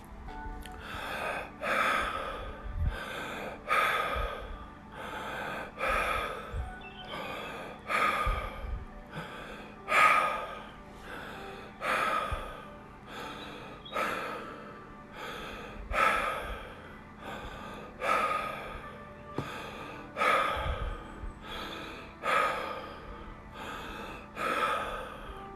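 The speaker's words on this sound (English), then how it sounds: "When we're done with the 15 breaths, we're going to go back to normal but conscious breaths." Deep, deliberate breathing exercise of repeated slow inhales and exhales, around fifteen audible breaths in a steady rhythm, close and fairly soft with no speech.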